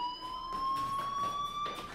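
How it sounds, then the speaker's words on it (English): In the video game Life is Strange, a fire alarm sounds as a continuous electronic tone that rises very slightly in pitch, held steady at moderate level across two seconds over soft pulsing background noise. "do you hear that fire alarm? That means you should be outside."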